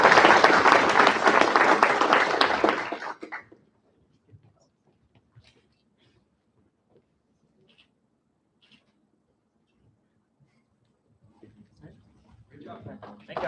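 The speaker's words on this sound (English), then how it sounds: "Let's give them a round of applause." A church-hall or conference audience gives a loud, dense round of applause for a final student presentation; it lasts about three seconds, then stops, leaving near silence with faint rustles before a voice returns.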